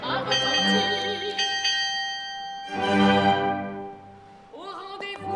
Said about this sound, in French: C'est la cloche de la tourelle qui tout à coup a retenti